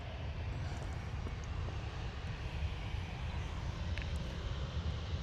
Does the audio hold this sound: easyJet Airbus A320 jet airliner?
yes